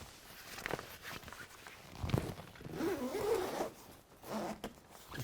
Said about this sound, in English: So if I just zip this back over